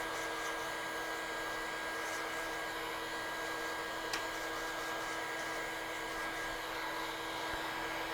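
A heat gun blows hot air over a phone circuit board with a steady, even whoosh and motor hum, unbroken throughout at close range, with no one talking.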